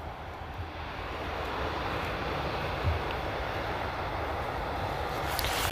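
An EasyJet airliner arriving at Amsterdam Schiphol Airport from Liverpool gives a steady, broad engine roar that holds evenly throughout, with no voices.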